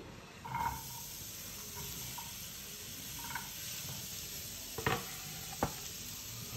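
Ridge gourd tossed into a hot pan for chutney gives a steady soft sizzle with light stirring scrapes and a few sharp utensil clicks toward the end.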